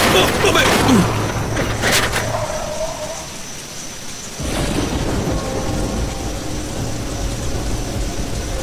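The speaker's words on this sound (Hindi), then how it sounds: "तभी आसमान फटा और इतनी तेज बारिश हुई कि विंडशील्ड वाइपर बेअसर हो गए।" Heavy rain pours in a cartoon story, hammering steadily over a windshield as a car drives, with a rumble of thunder and crackling bursts early on before the downpour resumes at full strength.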